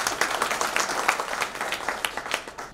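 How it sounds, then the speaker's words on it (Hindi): Audience clapping at a talk on nutrition for humans and plants, a dense patter of many hands at moderate volume, steady throughout and without voices. "अब चाहें तो तालियां बजा सकते हैं।"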